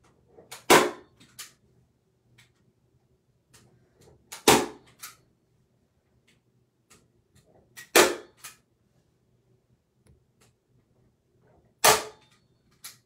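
A staple gun fires into a homemade pressing board, giving four sharp, separate snaps spaced a few seconds apart, with faint handling clicks between them in an otherwise quiet room.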